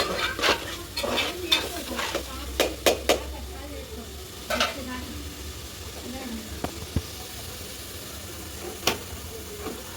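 Chili paste for a Nellore-style fish curry fries and sizzles steadily in a pan while a utensil stirs it with repeated sharp scrapes and taps, close by, with faint talk in the background.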